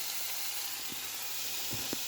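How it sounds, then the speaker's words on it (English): Steady, close sizzling of sausage frying in a pan, a continuous hiss with a few small pops. "Sausage is starting to sizzle."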